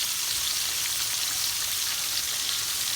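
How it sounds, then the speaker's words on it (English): Green tomato slices fry in vegetable oil with a soft, steady crackling sizzle, close by and even throughout, with no talking. "Just shift the tomatoes around just to make sure that they're frying evenly."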